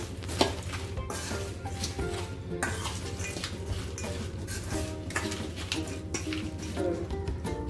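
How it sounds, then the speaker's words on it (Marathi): Wafer bhel is tossed with lemon juice in a bowl, giving a continuous crunchy rustle of crisp wafers with spoon scrapes and light clinks against the bowl at close range. "आता यावरती आपण थोडं लिंबू पिळूया परत हे मिक्स करू"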